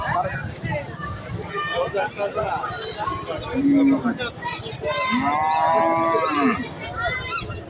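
Cattle lowing at a crowded night-time cattle market at Neuyara bazar, with several long, loud moos rising over steady chatter from many people nearby.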